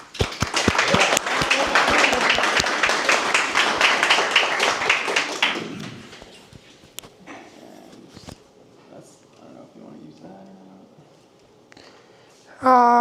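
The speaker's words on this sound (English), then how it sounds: "let's have applause for Alex and get started" Applause from a live tech meetup audience starts dense, with a few sharp individual claps audible, then thins and dies out after about six seconds, leaving quiet room noise and faint stray sounds.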